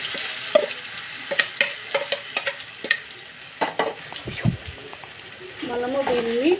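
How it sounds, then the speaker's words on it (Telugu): Marinated chicken sizzles in hot oil while a utensil scrapes and stirs it in the pan, with sharp clacks and hissing bursts, close and fairly loud, with a voice speaking over part of it. "ఎక్కువ స్టవ్ ఆయిల్ అయినాక తర్వాత ఈ మ్యారినేషన్ చేసిన చికెన్ని ఇలా వేసుకొని"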